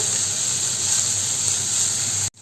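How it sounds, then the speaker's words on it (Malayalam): Ingredients are sautéed in a hot pan, with a steady close hiss of sizzling that cuts off abruptly just before the end. "ഇതൊന്ന് പച്ചമണം മാറുന്നത് വരെ ഇതിലിട്ടിട്ട് നന്നായിട്ടൊന്ന് വഴറ്റിയെടുക്കണം"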